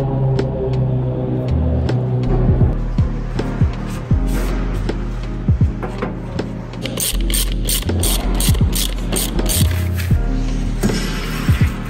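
A hand ratchet clicks in quick bursts, close and fairly loud, while it loosens the bolts holding an aircraft nose wheel together so the halves can be split. Repeated sharp metallic ticks sit over a low hum.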